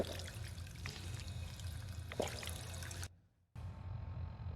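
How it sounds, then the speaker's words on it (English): Water pouring and trickling from a sink in Fallout 4, a steady splashing stream with a few brighter drips. It cuts to near silence for a moment, then a thinner running-water hiss resumes. "Drink of water."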